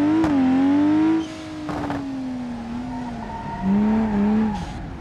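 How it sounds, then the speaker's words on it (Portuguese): Car spinning out in BeamNG.drive, a loud whining engine note swooping and dropping as the tires squeal and skid, with a few sharp scrapes, close and alone. "Não acredito que eu rodei aqui"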